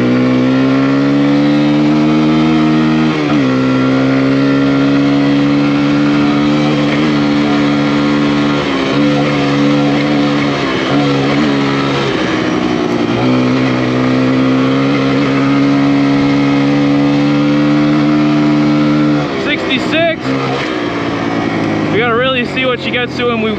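A Kawasaki KLX140R dirt bike accelerates hard through its gears, the engine note climbing in pitch, dropping at each shift and rising again, loud and close with wind noise, while a rider talks over it.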